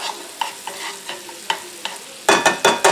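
Garlic sautéing in a pan as the base of a meatball sauce, soft sizzling punctuated by regular spoon scrapes and stirs that grow louder and quicker near the end, close up with no voices.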